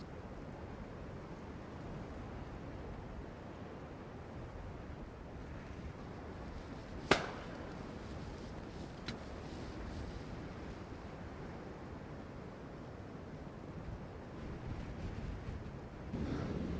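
Steady winter wind blows over an open outdoor field, a continuous rushing roar with microphone buffeting that swells slightly near the end, with one sharp click partway through.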